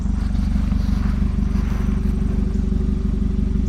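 Custom blue-tipped exhaust on a 2019 Acura ILX A-Spec, heard up close as a deep, steady, rapidly pulsing rumble that holds an even level throughout without a clear rev rise.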